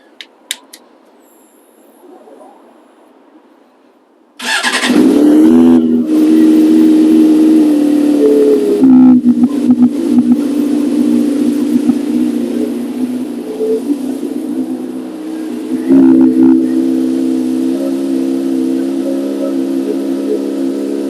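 A motorbike left standing for months is started: a few faint clicks, then the engine catches with a sudden loud burst and settles into a rough, steady idle with brief revs, close by and alone.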